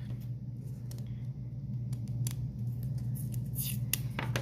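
Scissors snip through a short piece of yarn while weaving a pouch: a few quiet, crisp cuts and handling clicks over a low steady room hum, close by and with no talk.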